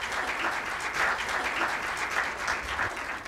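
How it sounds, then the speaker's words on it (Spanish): An audience applauds steadily at a diplomatic lecture event, a dense wash of clapping from a seated crowd greeting the ambassador of Mexico to the Dominican Republic. "Vamos a recibir con un fuerte aplauso al embajador de México en República Dominicana."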